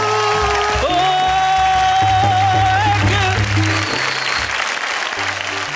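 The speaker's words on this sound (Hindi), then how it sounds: "बड़ी खुश होकर तालियां बजा रही थी" An audience applauds after a Hindi poetry parody at a live stage show, with loud, sustained clapping that carries on for several seconds while background tones hold beneath it.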